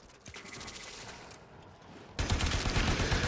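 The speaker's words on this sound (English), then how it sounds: "Reloading after I just shot like 3 bullets." Rapid bolt and gunfire from the video game Warframe, a dense fusillade of shots that grows louder and fuller partway through, with no talking.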